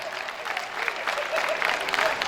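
Applause from the audience at a comedy poetry show, a sustained wash of clapping from a crowd that swells slightly toward the end.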